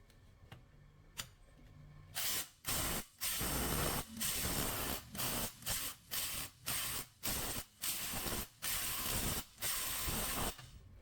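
A ratchet handle from a Premier HL 1/2-inch set tightens an M12 grade 12.9 ASTM steel bolt, giving quick rhythmic clicking strokes that repeat a dozen times with brief pauses between swings.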